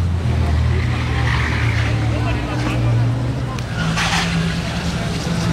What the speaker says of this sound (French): le départ de la Ferrari